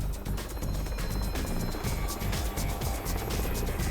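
A rescue helicopter flying, a loud continuous rotor chop and engine roar with rhythmic thumping, heard close and steady throughout without talk.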